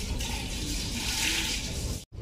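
Well water splashing and pouring briefly, a rushing wash that cuts off abruptly near the end.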